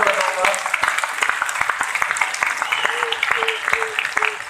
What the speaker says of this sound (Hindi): और आप लोग बड़ी तालियां बजाने से रुक नहीं पाओगे।